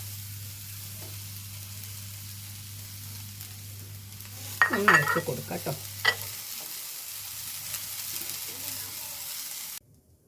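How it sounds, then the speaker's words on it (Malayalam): Dried prawns frying in a pan make a soft, continuous sizzle beneath a low steady hum, with a brief louder burst of scraping and stirring in the middle; someone speaks briefly over it. "ആദ്യം പാൻ വെച്ചിന്ന് ചെമ്മീൻ ഇട്ട് കൊടുക്കുന്നുണ്ട് വറുക്കാൻ"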